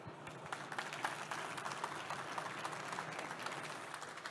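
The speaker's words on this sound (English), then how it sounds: "So please give a round of applause to Dr." Audience applause at a talk on hydrogen energy infrastructure, a fairly faint, steady patter of clapping from a crowd lasting several seconds without any speech over it.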